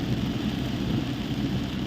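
Steady, dense roar of heavy rain heard while driving in a thunderstorm, with a low rumbling undertone, constant throughout with no voices.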